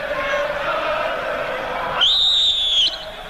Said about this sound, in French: il y a eu un coup de sifflet de Michel Vautreau